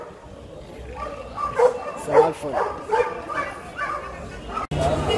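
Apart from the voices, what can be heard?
dogs barking at Alexandria Friday market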